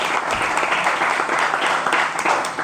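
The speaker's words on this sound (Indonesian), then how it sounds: "Tepuk tangannya dong, meriah." Lively applause from a seminar audience at an Islamic boarding school, welcoming a visiting religious teacher, with dense steady clapping that fills the room throughout.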